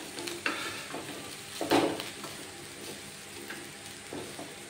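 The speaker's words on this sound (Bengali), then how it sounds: "এইভাবে এপিট উপিট করে ভেজে নিয়ে নিলেই কিন্তু আজকের ব্রেকফাস্ট রেডি" Thin batter fries in butter in a pan and is flipped to cook both sides, with a faint, steady sizzle broken by a few soft scraping, turning bursts.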